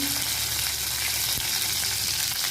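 Asafoetida, curry leaves and slit green chillies crackle and sizzle in hot oil, a steady dense frying hiss with one brief sharper pop midway, close and loud throughout with no talking.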